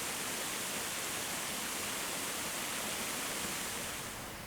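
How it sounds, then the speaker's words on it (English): A waterfall in an Alabama national forest pours as a steady, dense broadband rush of falling water, constant and unbroken throughout, with no voices. "this exquisite waterfall"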